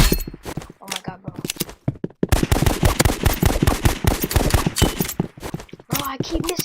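Rapid handgun shots ring out in the Roblox game Rivals, a dense run of sharp, repeated cracks with short gaps, loud and close. A voice talks over the gunfire throughout.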